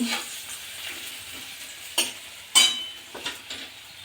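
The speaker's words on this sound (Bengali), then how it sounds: "প্রথমে পেঁয়াজটা ভালো করে ভেজে নিচ্ছি" Onions fry in hot oil with a steady soft sizzle, broken by a few sharp clicks and scrapes of a spatula against the pan, close and alone without speech.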